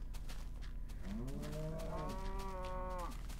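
Cows in the video game Minecraft moo in a long, drawn-out call with a rising then wavering tone, clear and fairly close over a steady low background hum.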